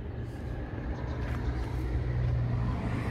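A 1997 Toyota Coaster bus with an HZB5 diesel engine idles with a steady low rumble, moderately close and unbroken.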